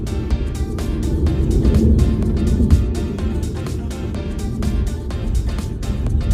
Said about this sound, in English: let's cut the apex and accelerate. All 530 horsepower.